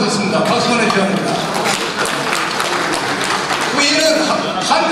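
Sustained audience clapping fills the hall at a Korean association's founding ceremony with some 500 attendees, a dense steady patter of many hands mixed with crowd voices, loud and close throughout.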